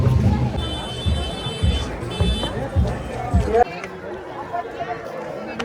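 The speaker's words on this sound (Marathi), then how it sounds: "मित्रांनो, गर्दी बघू शकता." Dense crowd at the Ekvira palkhi procession, with close babble of many voices, footsteps and a high electronic whistle-like tone, loud at first and then thinning out to quieter background murmur.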